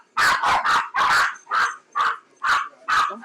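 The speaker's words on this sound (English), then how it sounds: "my puppies get to barking" Pet dogs bark close by and loudly, giving about eight sharp barks in an uneven rhythm. Some come in quick pairs, and a faint whimper follows at the end.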